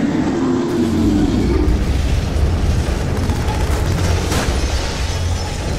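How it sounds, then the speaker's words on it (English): A loud Demogorgon roar one-shot from a government facility sound set, a dense, rumbling monster blast that fills the whole clip with a booming, explosive low end and a steady, sustained roar. "It's a great Demogorgon roar one shot."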